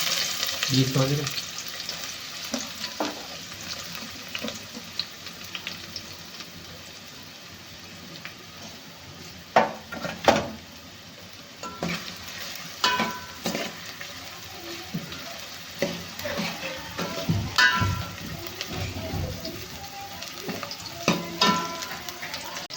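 Onions frying in a pan for Maggi noodles, a steady low sizzle with intermittent scraping and stirring strokes, some louder clattering bursts, and faint talk in the background.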